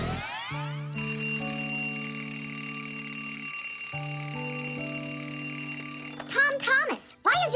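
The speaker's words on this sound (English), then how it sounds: "why is your alarm clock ringing in the middle of the night" A cartoon alarm clock rings with a tonal chime in steady, repeating electronic notes at night, then a voice cuts in near the end.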